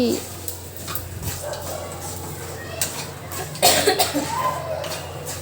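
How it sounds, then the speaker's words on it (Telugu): Coughing bursts, set off by fumes from dry red chillies frying, break out several times amid kitchen clatter and sizzling, with a voice talking faintly in the background. "ఎక్కువ ఎండుమిర్చి వేయడం వల్ల దగ్గు కూడా వచ్చేస్తుంది"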